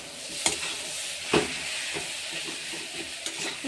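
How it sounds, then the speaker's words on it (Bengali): A spoon stirs spice masala with potatoes frying in oil in a wok, giving a continuous sizzle broken by a few sharp scraping strokes, close and alone without speech. "যতক্ষণ মশলার গন্ধটা থাকবে ততক্ষণ অবধি ভালো করে নেড়ে নেব।"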